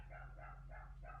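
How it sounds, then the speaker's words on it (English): A dog barks from another room downstairs, coming through as faint, muffled, repeated barks in a steady rhythm under a constant low hum. "My dog's barking downstairs."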